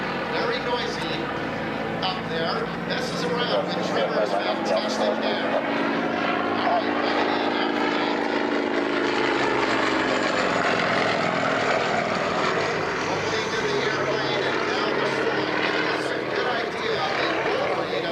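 A Pitts Special biplane flying at an airshow in London, Ontario, its propeller engine droning steadily with shifting pitch for the whole stretch, while a commentator talks over it.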